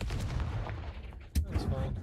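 A Confringo fire spell cast in the Hogwarts Legacy video game bursts out as one sharp, loud explosive blast partway through, under a constant rumbling game background, with a person's voice briefly audible.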